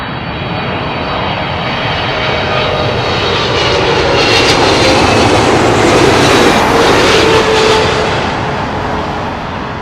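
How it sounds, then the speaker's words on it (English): A Turkish Airlines Boeing 777-300 arriving from Istanbul at London Heathrow passes close and loud, a steady broadband jet roar that swells toward the middle and eases off slightly at the end. "Turkish Airlines, Boeing 777-300 coming in from Istanbul"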